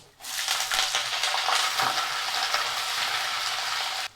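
Curry leaves, onion and garlic hit hot oil in a pan for a Tamil dry fish curry (karuvadu kulambu), setting off a sudden, steady, crackling sizzle that holds close and loud for about four seconds before cutting off.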